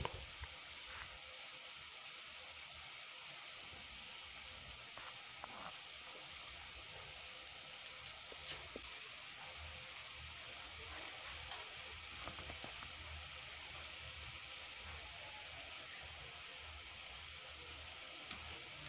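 Drop maandazi (drop scones) frying in a pan of oil, a steady, even sizzle and crackle that continues without a break, with faint occasional clicks.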